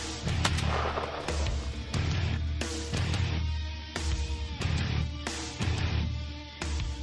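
A rifle fires at a ten-point buck during a New York deer hunt, with several sharp, loud cracks and booms spread across the stretch against a rumbling outdoor background, and no voices.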